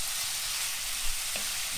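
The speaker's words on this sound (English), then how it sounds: "Back here and just give our peppers and onions a stir" Peppers and onions fry over medium-high heat in a pan with a steady, loud hissing sizzle, and a utensil scrapes through them once partway through.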